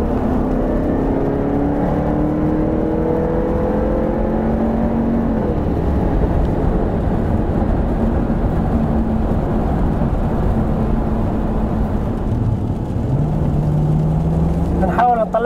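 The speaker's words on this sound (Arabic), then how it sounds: "بنحاول نطلع لكم صوت السيارة قدر الإمكان" A 2014 Jaguar F-Type coupe engine revs and roars loudly and continuously close by, its pitch climbing and dipping as it accelerates, with some talk underneath.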